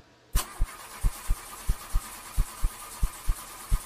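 A car engine cranks repeatedly without catching. The starter makes a steady series of regular thumping pulses, close and fairly loud, with no voices.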